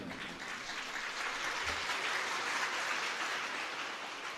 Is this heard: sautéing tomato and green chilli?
no